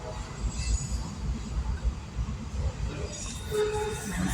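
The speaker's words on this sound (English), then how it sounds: "How long this train's gonna take to go?" A train rumbles past a railroad crossing, low steady rolling and clattering with a brief horn-like tone near the end, heard at moderate distance from a waiting vehicle.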